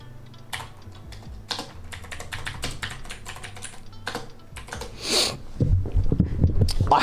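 Rapid typing on a computer keyboard during a live trading stream, with irregular bursts of close, clattering keystrokes, a brief pause, then sniffs and low background noise toward the end.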